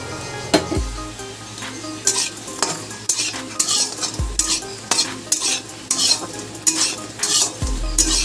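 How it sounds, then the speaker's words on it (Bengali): Lentil bori fry in hot oil in a wok, giving a steady close sizzle broken by repeated scraping stirs and spatula clinks against the metal. No one speaks. "লাল লাল করে বড়িগুলো একদম ভেজে নেব"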